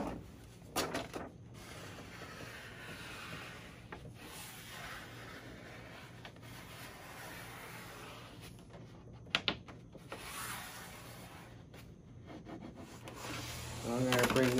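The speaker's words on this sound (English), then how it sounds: "I'm going to use my squeegee. I'm going to shove it down this way, all the way down." A squeegee pressed and dragged along vinyl wrap film on a drawer door gives a steady close rubbing scrape with a few sharper knocks and a louder push near the end.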